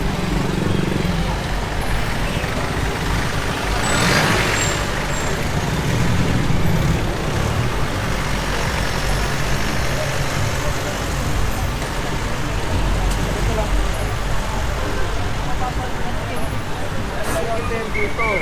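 Road traffic streams past a street corner used as an illegal jeepney terminal, a loud steady roar of engines with passing vehicles. Voices are heard throughout.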